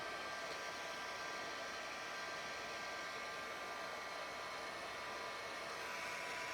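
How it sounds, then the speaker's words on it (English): A heat tool on its lower speed blows steadily to dry alcohol ink on vellum, a constant airy whir with an even motor hum, close and unchanging, with no talking. "that is only the lower speed on the heat tool"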